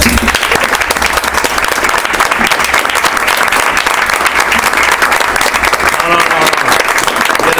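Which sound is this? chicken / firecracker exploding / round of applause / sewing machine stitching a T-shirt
round of applause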